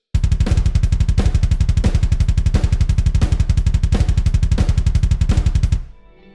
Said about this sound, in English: the snares are not actually in time, and they are flamming with the kicks to varying degrees